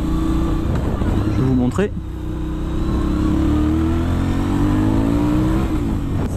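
Aprilia Shiver 900 motorcycle engine revving and accelerating, a loud steady drone with rising pitch, close up, while someone speaks French over it.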